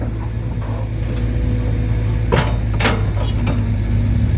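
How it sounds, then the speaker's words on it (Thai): Tractor engine working as it pushes a Hitachi ZX120-3 excavator on slippery wet soil, a steady low rumble throughout with a few sharp mechanical clanks in the middle. "ต่อรถไถมาช่วยครับ"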